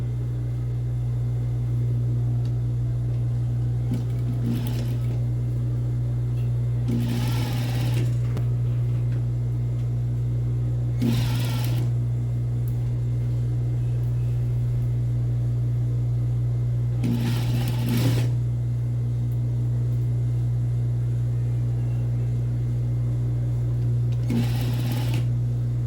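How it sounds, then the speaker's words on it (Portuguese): Sewing machine stitching a bias-bound turned collar, running in several separate bursts of a few seconds each over a steady low motor hum, close and fairly quiet. "Aí eu vou costurar daqui até o meio e depois eu vou fazer o restante,"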